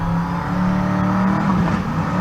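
A drag racing car at a Pueblo, Colorado race event holds a steady, loud engine drone with strong harmonic tones as its turbo spools up on the line, continuous and close throughout.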